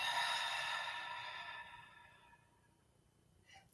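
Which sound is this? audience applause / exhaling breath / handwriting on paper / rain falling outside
exhaling breath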